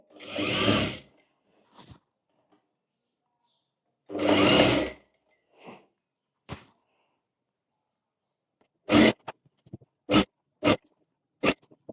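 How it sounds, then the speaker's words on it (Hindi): A sewing machine stitching a katori blouse runs in short bursts, two longer whirring runs then several quick stitch spurts with pauses between, close and alone. "इस तरह से करने के बाद यहाँ पर एक एक धार सिलाई लगा लेनी है।"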